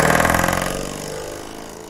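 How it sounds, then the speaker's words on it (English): Doorstop spring fixed to the back of a drumstick, set vibrating against a snare drum so the buzz carries through stick and drum; a dense metallic rattling drone, loud at first and fading over about two seconds. "this use of this doorstop spring attached to the back of a drumstick"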